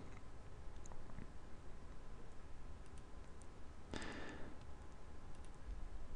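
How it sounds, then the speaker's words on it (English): A computer mouse button gives a few faint, sparse clicks in a quiet room. "click the download button here"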